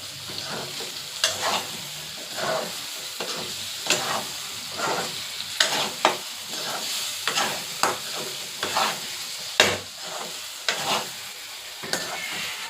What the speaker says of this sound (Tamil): ஒரு 2 நிமிஷம் ஹை ஃப்ளேமில் வச்சு இதை நம்ம இப்படி பெரட்டி விட்டுருவோம்